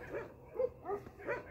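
Belgian Malinois dog giving several short barks and yips in an irregular rhythm, about four calls spaced apart, faint and somewhat distant with no talk over them.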